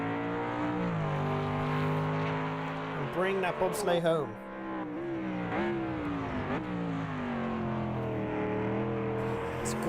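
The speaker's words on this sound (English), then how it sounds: "It's a gorgeous sounding car, isn't it? The AMG Mercedes on AMS2." The AMG Mercedes GT3 race car in Automobilista 2 roars through gear changes with rising revs and a brief throttle lift and downshift burst, a steady engine note heard under a commentator's voice.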